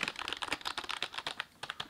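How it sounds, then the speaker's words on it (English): Soft, quick clicks of an HP 22 All-in-One computer keyboard being typed on, a steady run of light keystrokes close up with no talking. "Soft clicks. You're not going to, like, annoy anybody by using this keyboard."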